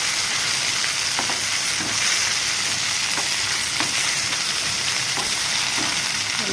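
Steady oil sizzle from a tempering for green-chilli gongura chutney as turmeric is stirred in, with a spoon scraping the pan in regular clicks every second or so, close and continuous.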